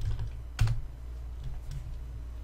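Typing on a computer keyboard, entering a short search term: a few soft, close keystrokes with one sharper key press near the start, over a faint background hum and with no speech.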